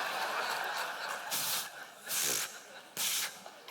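A voice imitates lighter fluid being sprayed onto kindling, making several loud breathy hissing bursts with short pauses between them over a hissy background.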